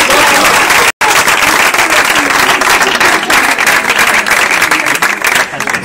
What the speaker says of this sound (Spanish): Un aplauso a la palabra bendita del Señor.